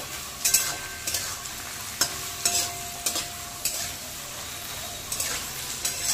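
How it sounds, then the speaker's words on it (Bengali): Sliced onions with three or four dried red chillies fry in hot oil in a pan, a steady sizzle broken by repeated scraping stirs of a spatula at irregular intervals, no talking. "এবার পেঁয়াজটাকে খুব ভালো করে ভাজতে হবে।"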